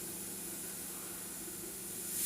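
A pressure cooker hisses steadily with steam while tapioca cooks on the stove, a continuous loud spray of escaping vapor that swells slightly at the end.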